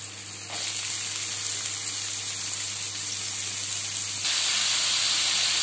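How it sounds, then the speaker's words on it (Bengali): Potatoes and carrots fry in oil with a loud, steady hissing sizzle over a low hum, growing noticeably stronger near the end, with no voices. "এবার সব সবজিগুলো ভালো করে আগে ভেজে নেব"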